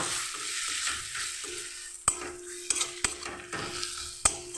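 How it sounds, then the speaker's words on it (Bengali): Spice paste is stir-fried in a pan: a soft sizzle runs beneath a few sharp scrapes and knocks of the spatula against the pan, spaced irregularly. The sound is close and there is no speech. "এবার মশলাটাকে ভালো করে কষিয়ে নেবো।"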